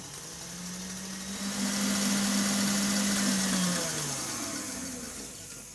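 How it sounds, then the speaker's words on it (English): A whisk beats meringue mixture thickened with xanthan gum, giving a steady motor whine and hum that swells, holds for a couple of seconds, then eases off, close and alone. "we need to get it whisking heavily for about a minute or two"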